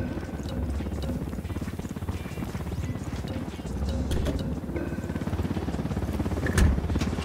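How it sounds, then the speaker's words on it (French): In Ghost Recon Wildlands, an approaching helicopter beats out a rapid rotor chop that pulses steadily through a dense mix of game engine noise and clatter, swelling slightly midway and staying prominent throughout. "Hélico en approche."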